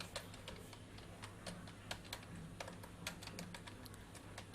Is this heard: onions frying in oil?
no